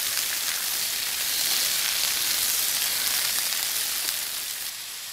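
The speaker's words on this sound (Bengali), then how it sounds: "এবার আমি ঝিঙেগুলো দিয়ে দিচ্ছি। ঝিঙেগুলোকে একটু লো ফ্লেমে রেখে আমি নাড়াচাড়া করে নেব।" Ridge gourd frying in oil on a low flame while being stirred, a continuous soft, even sizzle with fine crackle, close up, easing slightly in volume near the end, no voices.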